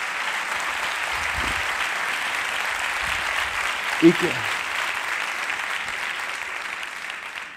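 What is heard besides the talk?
audience applause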